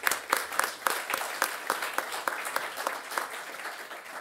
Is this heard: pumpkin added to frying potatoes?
no